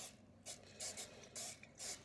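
Olive oil non-stick cooking spray hisses into a metal pan in several short bursts, each a quick close spritz separated by brief pauses, with no talking.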